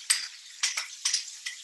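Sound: tofu sizzling in hot oil pan

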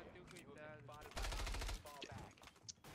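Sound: gunfire in a shooter video game

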